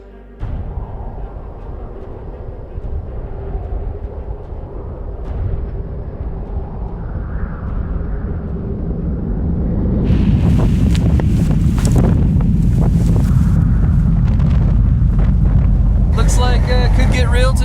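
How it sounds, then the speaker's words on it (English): Strong katabatic wind batters a remote, unclimbed Antarctic peak, roaring and buffeting the microphone close up, then growing louder and harsher about halfway through, with voices faintly heard beneath the gusts. "Snow, wind, and KATABATIC mayhem."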